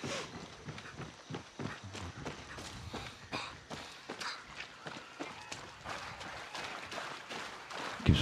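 Far Cry 6 horse hooves thud in an irregular trotting rhythm, soft and mid-distance, with faint ambient noise around them.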